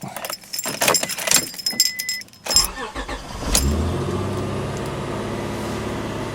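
A 1998 Honda Accord revived by a jump start: keys jangle and click near the ignition, then the engine cranks briefly and catches, settling into a steady idle that runs to the end, with no talk.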